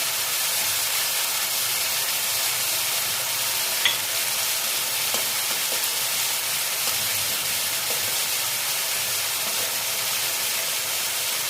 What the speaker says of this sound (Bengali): প্রথমে দিয়ে দিচ্ছি রসুন বাটা